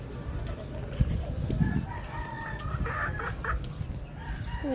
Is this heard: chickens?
yes